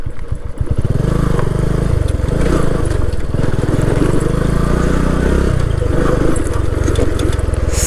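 A Vikrant V12 motorcycle ridden off-road, its engine running loud and close throughout with a steady throbbing note that rises and falls as the throttle changes.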